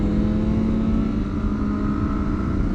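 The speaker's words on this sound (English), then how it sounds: "Just get it in second, then just hold the throttle wide open, see what happens." Motorcycle held at wide-open throttle in second gear, a loud, steady engine drone with a sustained tone that climbs slightly, running close and continuous for the whole stretch.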